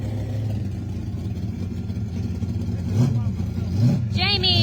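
Ole Heavy, a drag race car at Knoxville Dragway, rumbles with a heavy low engine drone that swells into rising revs near the end, with people talking over it.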